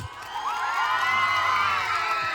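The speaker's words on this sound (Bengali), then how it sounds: "অরিজিতের জন্য একটু ভালোবাসা চাই, জোরদার তালির সঙ্গে আওয়াজ।" A crowd cheers loudly for Arijit, with whoops and excited rising voices filling a short, dense burst of noise.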